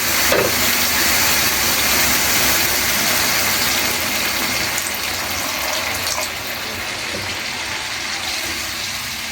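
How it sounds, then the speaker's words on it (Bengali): Water poured into a pan of spiced shing fish curry makes a continuous loud hissing rush that fades slightly toward the end, with no talking. "এখন আমি দিয়ে দিব পরিমাণ মতো পানি।"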